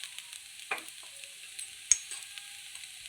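Mutton blood fry with egg cooking in a pan, a soft sizzle under quiet stirring, with a sharp clink of a spatula against the pan near two seconds and a few faint scrapes.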